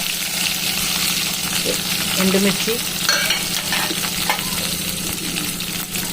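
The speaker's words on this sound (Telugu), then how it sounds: "కొంచెం కరివేపాకు వేసి బాగా ఎర్రగా వేయించుకోవాలి తాలింపు" Mustard seeds, cumin, crushed garlic, onion, curry leaves and dried red chillies fry in three teaspoons of hot oil for a tempering, giving a steady close sizzle and crackle with occasional stirring and a brief spoken word.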